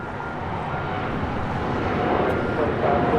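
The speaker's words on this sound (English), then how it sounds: "This is Aeromexico 647 taking off to Mexico City on a 787-8 Dreamliner" Aeromexico Boeing 787-8 Dreamliner taking off at LAX, a steady loud rushing jet engine roar building slightly over a few seconds.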